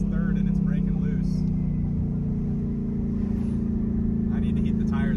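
A turbocharged 1000hp drag car pulling on the street, its engine giving a deep steady drone heard from inside the cabin, with faint turbo whistle and hiss mixed in.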